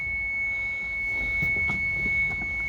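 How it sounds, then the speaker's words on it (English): A steady, high-pitched warning tone sounds continuously from a turbocharged second-generation Toyota MR2 with 50k miles while its door stands open, with low engine idle rumble underneath. "Beeping at me because the door's open."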